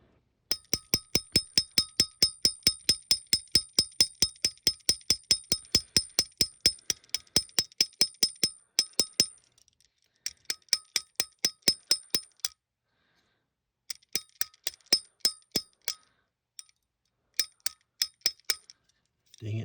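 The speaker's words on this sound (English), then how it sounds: "Dang it, I keep hitting the plier." A small metal tool repeatedly strikes pliers while shaping metal for a Santa Claus mail truck model, producing rapid, ringing metallic taps in steady bursts with short pauses, close and clear.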